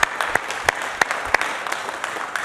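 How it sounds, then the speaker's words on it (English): Applause for military veterans at a city council meeting: a room of people clapping at moderate volume, a few sharp individual claps standing out over the steady patter, with no speech. "that deserves a round of applause,"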